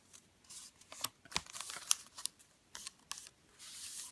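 Paper being folded for a 3D origami piece, with scattered crisp creasing and rustling bursts close by, quiet and irregular, no talk.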